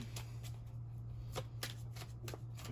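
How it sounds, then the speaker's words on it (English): Tarot cards shuffled by hand, quick riffling and slapping bursts repeating at an uneven rhythm, soft and close against a steady low background hum. "Let's go ahead and shuffle up these cards."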